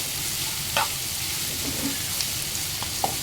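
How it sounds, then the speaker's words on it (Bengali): Onions sizzle gently in a pan while being stirred, a constant close hiss broken by a few small clicks and scrapes of the spatula, with no talking. "পেঁয়াজটা আস্তে আস্তে ভাজা ভাজা হচ্ছে"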